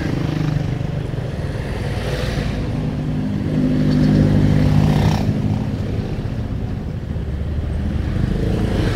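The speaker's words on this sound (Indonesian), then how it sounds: "banyak papasan sama truk pengangkut material" Traffic on a narrow mountain road with trucks carrying material passing by, a close, continuous engine rumble that swells to a louder pass in the middle before easing off.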